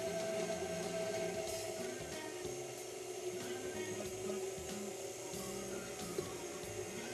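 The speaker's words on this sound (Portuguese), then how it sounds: "agora aqui a batedeira a gente põe em velocidade baixa mesmo" Electric stand mixer whirring steadily at low speed while hot sugar syrup is poured into it for a red-berry cheesecake, a faint continuous mechanical hum with slight rattling throughout.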